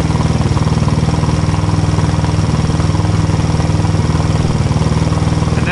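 A fuel-injected GY6 171cc engine in a Honda Ruckus runs steadily near 2000 RPM, giving a close, loud, even putter with a constant rhythmic pulse and no pauses.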